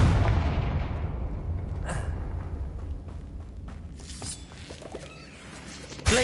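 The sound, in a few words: Confringo blast spell in Hogwarts Legacy video game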